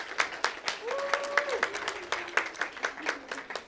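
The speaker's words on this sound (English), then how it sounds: "I'd like to offer a round of applause for those first-time artisans." Audience applause for first-time artists at a public art show, a steady wash of many hands clapping close by, with a faint sustained tone rising briefly in the middle.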